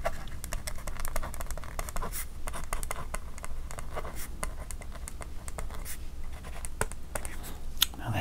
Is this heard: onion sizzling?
no